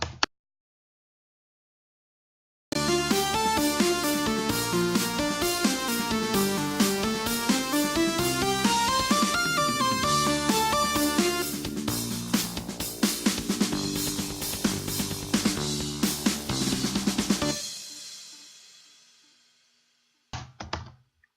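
Programmed drum beat playing along with a full electronic music arrangement, dense and steady for about fifteen seconds before fading out, with a brief burst near the end.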